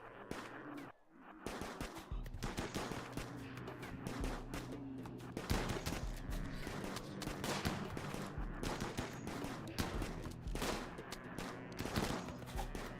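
Fairly faint gunfire in the colony game RimWorld, with irregular shots and short bursts crackling steadily throughout a prolonged firefight and no speech.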